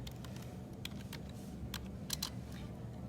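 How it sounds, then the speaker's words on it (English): Clicky typing on a computer keyboard, a quick run of key taps with a few louder strokes, close and steady over a low background hum, with no talking. "pardon my typing while I'm trying to"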